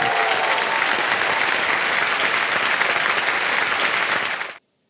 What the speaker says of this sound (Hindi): सर आप लोग कभी ताली बजा दिया कीजिए ज्ञान की बात